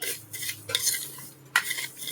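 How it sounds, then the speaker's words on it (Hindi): Spice masala for homemade mango pickle being stirred and roasted in a pan, with a utensil scraping and clinking against the metal in short bursts and a faint sizzle underneath, close and fairly quiet. "इसको हम अच्छे से भूनेंगे दोस्तों"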